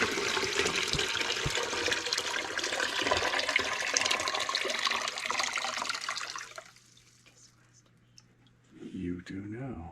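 Water pours steadily into a drinking water filter set on its base, a loud continuous gush with clicks, then the flow cuts off and a brief clunk follows near the end; a voice speaks over the pouring.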